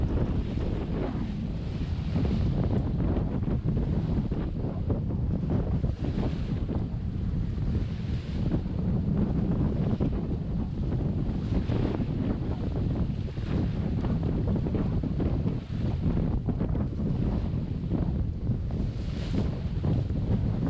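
Strong 25-knot wind roars across a small sailboat beating to windward under a reefed jib in the Northumberland Strait, with waves and hull noise mixed into a constant, loud rushing wash.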